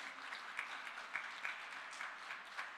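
Soft, steady applause from a crowd, with scattered claps rising and falling, fairly distant and quiet.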